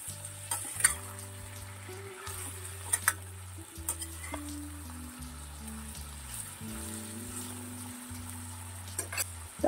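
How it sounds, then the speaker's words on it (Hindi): Eggplant is stirred in a frying pan for aloo baigan sabji, with a soft continuous sizzle beneath frequent clicks and scrapes of the spatula against the pan, quiet and close with no talking. "अभी हम बैंगन ऐड कर देंगे। अच्छे से मिक्स करेंगे।"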